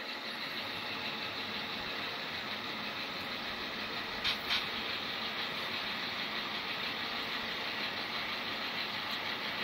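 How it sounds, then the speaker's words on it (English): An Athearn Genesis F7 Santa Fe model train locomotive runs slowly, giving a steady, even motor whir and hum with no voices and little change from start to end. "now coming back, the engine is a little slower."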